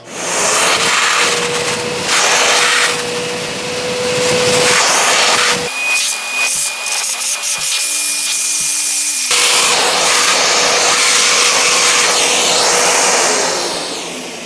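EXPOWER industrial vacuum cleaner with dust-collector function running close and loud, a steady roar with a high whine, sucking up scattered debris from a wooden floor, the pitch shifting midway as the nozzle is blocked, then opening back up.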